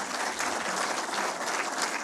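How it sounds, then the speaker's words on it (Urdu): Audience applause at a public address by a prime minister, a dense, steady clapping that fills the whole moment without pause, fairly loud and close. "ان کے لیے آپ بھرپور تالیاں بجائیں"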